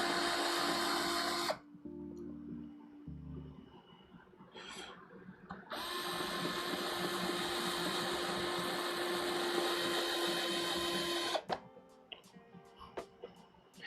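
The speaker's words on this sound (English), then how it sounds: "we're screwing right into the plastic" A power driver whirs steadily for several seconds as screws are driven into a 3D-printed plastic RC truck frame, bracketed by shorter motor bursts and followed by faint handling clicks, close and moderately loud with no talking.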